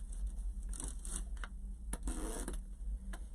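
Scissors snip through white deco mesh for a grapevine wreath, several quick crisp cuts in bursts with short pauses, close and fairly quiet, no talking.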